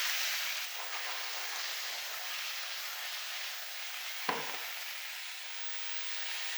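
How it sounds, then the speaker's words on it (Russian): Thin strips of chicken frying over high heat in a pan with vegetable oil, a steady, fairly quiet sizzling hiss with one brief knock partway through and no talking. "Где-то минуту-две обжариваем, чтобы легкую карамельную цветность придать курице"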